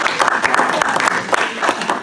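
An audience at a Michigan 13th District Republicans meeting claps steadily in a brief, dense burst of applause with a few sharper individual claps standing out.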